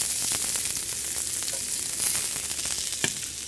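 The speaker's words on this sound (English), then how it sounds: "a hot pan, a little bit of extra virgin olive oil. I'm going to take some coarsely sliced red onion" Coarsely sliced red onion sizzles steadily in extra virgin olive oil in a hot pan, a close, continuous frying crackle with a few sharper pops and stir noises, no voices.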